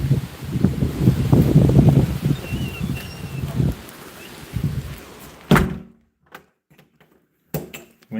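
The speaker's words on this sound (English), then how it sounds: "Getting windy out here," Outdoor wind gusts rumble and buffet the microphone for the first several seconds, then fade, followed by a few sharp thunks and knocks near the end.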